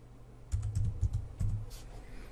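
Text is typed on a computer keyboard in two short bursts of quick, close key clicks separated by a brief pause, with no talking.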